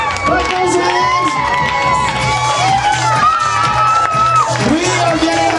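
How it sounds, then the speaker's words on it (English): Crowd cheering and whooping at a bat mitzvah celebration, a loud sustained roar of many voices with children shouting, over steady party music. "I want a standing ovation."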